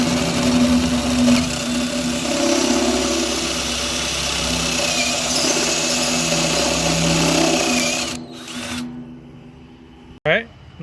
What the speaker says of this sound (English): I'm gonna take my step bit, widen this out big enough to get my blade in for the jigsaw.